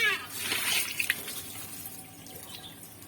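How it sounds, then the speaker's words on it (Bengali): Drumstick (sajne) leaves being rinsed under tube well water outdoors: a steady splash and drip of running water, louder at first and then settling to a softer trickle. "তো এখানে টিউবওয়েল আছে, তো আমি একটু ভালোভাবে ধুয়ে নিচ্ছি"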